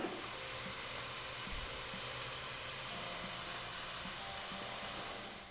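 Onion and green garlic frying in a pan, a steady loud sizzling hiss that continues throughout with no talk.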